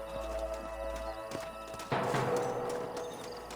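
Horse hooves in a Red Dead Redemption scene on PS5 as riders dismount, a rhythmic clip-clop over a low ambient hum, growing fuller and busier partway through with tack and movement sounds.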